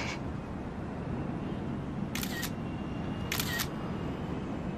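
A single-lens reflex camera shutter fires twice, two crisp mechanical clicks a little over a second apart, over a steady low outdoor hum at night.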